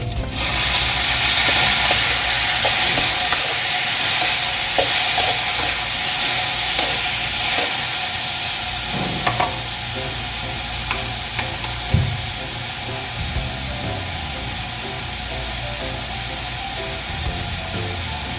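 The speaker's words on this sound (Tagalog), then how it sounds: "So, igisa lang ulit natin hanggang maluto yung ating tomato" Fresh tomato sautéing with onion and garlic in a pan, a strong continuous sizzle with stirring clatter, loud at first and settling slightly softer, with no talking.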